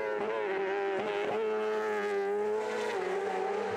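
A racing sidecar outfit at the Isle of Man TT roars past with a loud, high, sustained engine whine that shifts slightly in pitch, close and continuous.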